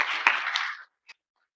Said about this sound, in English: All right, another round of applause for Dr. Liu.